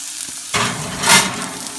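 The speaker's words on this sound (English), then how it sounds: "The potatoes going. Got a nice sizzle." Potatoes frying in a pan give off a loud, close, steady sizzle that swells briefly as they are stirred.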